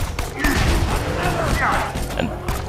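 Enemy gunfire in the video game Borderlands 2 rattles in dense, rapid bursts, mixed with thuds and other game effects at a loud, continuous level.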